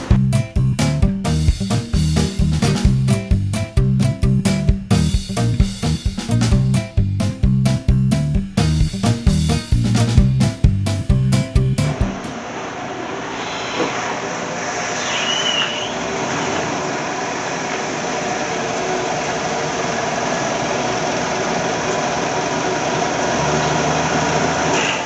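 An old rusty car runs on a hot summer cruise: a loud, rhythmic mechanical engine clatter gives way to steady driving roar and wind rumble, with no talking.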